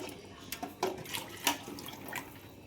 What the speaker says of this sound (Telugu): ఇప్పుడు 2 కప్పులు నీళ్ళు పోస్తుంది.